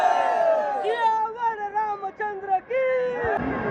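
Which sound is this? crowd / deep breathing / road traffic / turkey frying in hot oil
crowd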